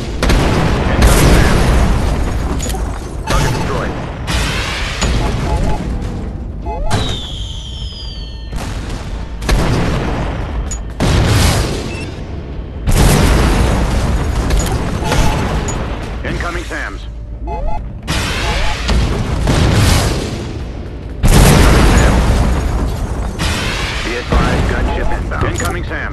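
Repeated heavy blasts from destroyed targets in the combat video game Shadow Strike, loud bursts recurring every few seconds over continuous engine and gunfire noise, with mechanical clatter between them.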